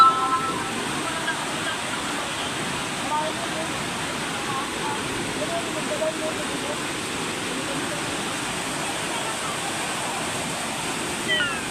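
Floodwater overflowing at a bridge roars in a constant, dense rush of churning water, steady throughout with no clear voices.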